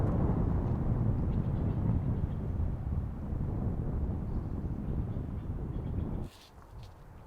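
Strong gusting wind buffets an outdoor spot with a volcano view during a stormy spell, a loud continuous roar of rumble and microphone buffeting that drops away abruptly near the end, with no talking.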